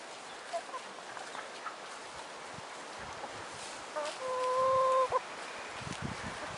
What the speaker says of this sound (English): The ducks and chickens seem to get on alright.